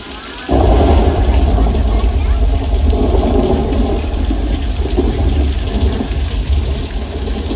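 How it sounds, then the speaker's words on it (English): Loud, dense roar of simulated flash flood water on a Universal Studios studio tour ride, starting abruptly and continuing at full strength like a torrent pouring through close by. "Flash flood."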